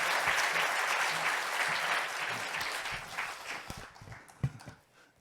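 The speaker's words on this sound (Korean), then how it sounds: "박수로 모시겠습니다." A church congregation claps to welcome the pastor at a revival meeting, with dense loud applause that gradually thins and dies away into a few scattered final claps and faint room noise.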